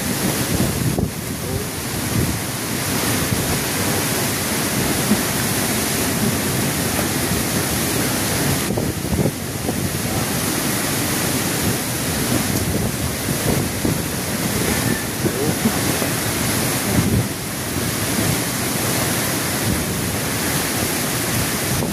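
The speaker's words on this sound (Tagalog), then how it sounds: "lakas na dito ngayon ng hangin" Strong outdoor wind roars steadily and loudly for the whole stretch, a broad continuous rushing with gusty buffeting against the microphone and no voices.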